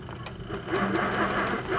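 HQ Sweet Sixteen sewing machine stitching quilt fabric with TruStitch, a steady fast mechanical hum and rattle heard up close with no voices.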